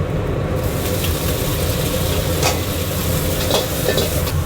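Steady sizzling and frying of broccoli in scallion oil in a hot pan with occasional scraping stirs, continuous and close, no voices.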